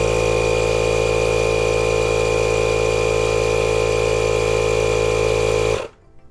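A Milwaukee 2475-20 compact inflator pumps up a small 6-inch skinny tire, running as a loud, steady mechanical drone for several seconds before cutting off abruptly near the end.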